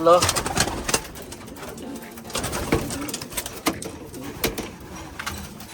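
Black racing pigeons of a Jansen line coo in soft, repeated throaty bursts close by, mixed with rustling, handling noises and intermittent talk.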